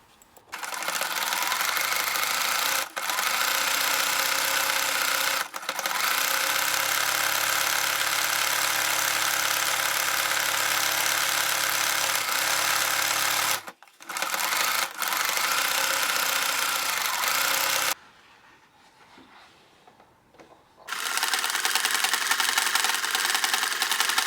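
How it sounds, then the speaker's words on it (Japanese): A sewing machine runs a zigzag stitch along a jacket facing edge folded under 5 mm, a loud steady mechanical whir in long runs with brief pauses and one quieter gap before stitching resumes. "見返しの端を5ミリ折りながらジグザグミシンをかけていこう。"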